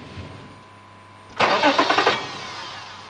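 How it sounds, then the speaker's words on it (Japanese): A car engine cranks in a rapid, rhythmic churning burst for about a second but fails to catch, then winds down to quiet, heard alone against faint background hum. "エンジンがかからない。"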